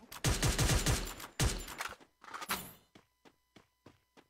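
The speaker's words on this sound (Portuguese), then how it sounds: "O cara atirando no morro." Gunfire on a hill in Free Fire, a dense rapid burst of shots followed by scattered volleys, then a string of evenly spaced single cracks fading out.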